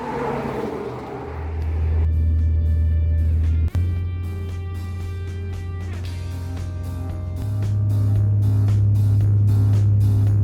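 A 1972 Ford F250 pickup cruising down the road, its engine a steady low drone from inside the cab with a shift in pitch partway through, over rumbling road noise.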